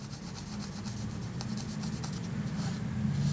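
A steady, abrasive rubbing of a Kodak Retina IB camera blade being polished continues throughout, close and fairly loud, with a low hum underneath and no voices.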